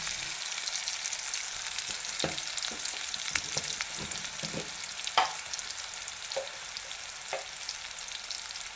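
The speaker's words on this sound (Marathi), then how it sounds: "मी याच्यात एक चमचा मसाला घालते मसाला चांगला परतून घ्यायचा" Masala sizzles and fries in hot tempering oil for a bottle gourd dish, a constant close crackle with occasional stirring scrapes and clinks.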